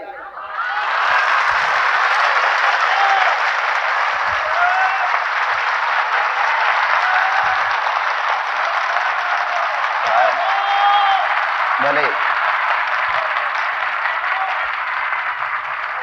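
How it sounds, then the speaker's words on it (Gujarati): Sustained audience applause fills a religious discourse hall, a dense steady clapping that swells quickly and holds at full strength throughout, with faint murmurs and a few voices underneath. "એક તાલીનો ગડગડાટ થઈ જાય."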